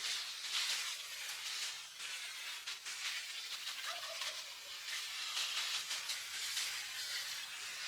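Water poured from a hose or can onto a compost pile of rabbit and chicken manure, a continuous soft hissing splatter with faint trickling, steady and fairly quiet, no voices.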